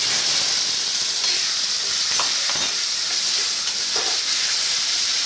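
Ground chili and ginger paste sizzles steadily in hot oil in a kadhai while a cauliflower gravy is cooked: a loud, close, continuous hiss with a few faint stirring clicks underneath.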